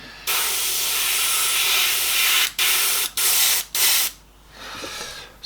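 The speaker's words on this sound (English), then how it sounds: "I'm just going to blanket it in a light mist" An airbrush sprays yellow ochre paint in a light mist, giving a loud, close, broadband hiss in one long burst followed by several short bursts with brief gaps, then a softer trailing spray.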